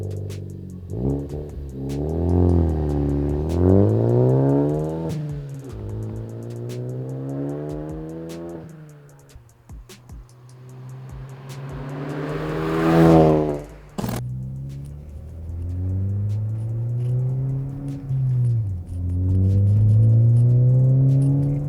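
Ford Focus ST with an ACCELATEC 3-inch stainless steel cat-back exhaust, revving up and down in repeated rising and falling sweeps, fairly loud and close, with a sharp peak midway and no talking.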